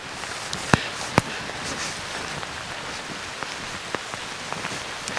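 Steady rain patters on a forest floor in the Georgia woods during a thunderstorm, a dense continuous hiss with a few sharper drops and ticks popping out close by, no voices.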